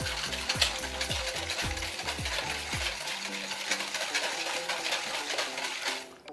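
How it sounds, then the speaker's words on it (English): A whisk beats pancake batter in a bowl, giving rapid rhythmic clinks and scrapes against the bowl for about three seconds, then a softer steady swishing stir, close and clear with no voices. "Whisk, whisk, whisk."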